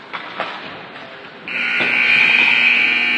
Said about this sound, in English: There is the buzzer to end the first period